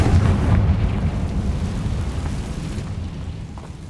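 A Confringo blast spell explodes in the Hogwarts Legacy video game, a loud low rumbling boom that opens heavy and then rolls on as a steady dull roar, gradually fading across the whole stretch.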